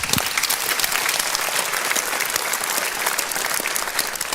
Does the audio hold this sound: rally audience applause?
yes